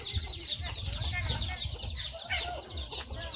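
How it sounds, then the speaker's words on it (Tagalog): Free-range native chickens on a small farm in the Philippines cluck steadily at close range, with overlapping calls and some low scuffling underneath. "Some chickens are there."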